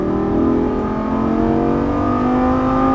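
A Lamborghini Gallardo LP550-2 pulls out of a turn on track, its engine holding a loud, steady droning note that climbs gently in pitch as the throttle is squeezed, close and continuous.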